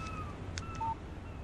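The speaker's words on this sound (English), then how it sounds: "Text message from Barry." A text message notification on a phone in the Alan Wake video game, a brief pair of electronic tones over a low background hum, with no voices.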